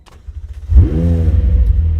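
A 2020 McLaren 720S convertible supercar fires up: a brief starter whirr, then the engine catches with a loud burst and settles into a deep, steady idle, close and alone.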